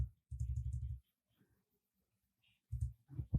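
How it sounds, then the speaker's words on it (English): Two short bursts of crisp computer keyboard clicks, a rapid run of key taps followed after a pause by a few more presses, close and dry in a quiet room. "I'm going to click end on my keyboard"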